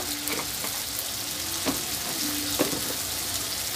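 Ground cumin and Kashmiri chili powder sizzle in hot oil as chicken fries, a steady close frying hiss with faint stirring scrapes and no talk.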